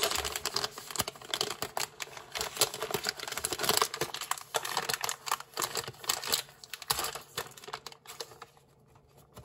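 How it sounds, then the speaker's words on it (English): A bag of chocolate chips being torn open and handled, with dense crinkling and rustling of the packaging that fluctuates close by, then fades toward the end; no talking. "while I open the bag of chocolate chips"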